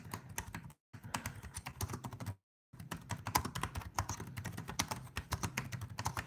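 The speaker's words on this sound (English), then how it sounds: "Yes, that's my keyboard." A computer keyboard clacks in quick, irregular bursts of close typing, with two short silent gaps and no talk.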